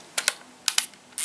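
An Olympus clamshell point-and-shoot film camera being wound and clicked, giving sharp mechanical clicks in two close pairs and then a final click, close and alone.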